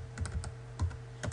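Computer keyboard typing a spreadsheet formula, with three brief clusters of key clicks in quick bursts, close and fairly quiet, no talking.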